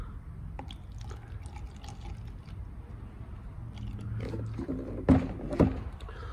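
Car wash product and water being poured into a 5-litre jug to mix a spray cleaner, soft trickling and splashing that grows into two louder glugging pours near the end.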